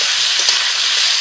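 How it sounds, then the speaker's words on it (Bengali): Boiled young jackfruit and potatoes fry together in hot oil in a pan, giving a loud, steady, close sizzle with no pauses. "এবার এঁচোড় আর আলু একসাথে ভেজে নেব।"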